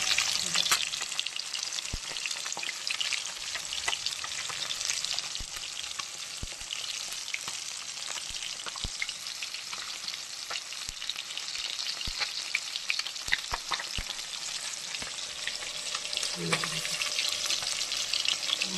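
Tangra fish fries in hot oil with a dense, continuous crackling sizzle and frequent sharp pops, steady throughout.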